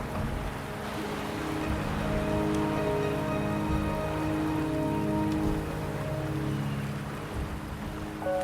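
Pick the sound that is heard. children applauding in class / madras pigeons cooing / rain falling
rain falling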